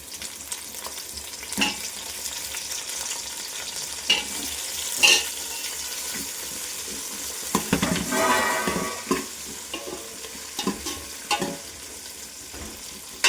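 Eggplant pieces frying and being stirred in hot oil in a pan for a Tamil cassava and dried-fish curry, giving a steady close sizzle with intermittent scraping stirs and utensil clinks, no talking.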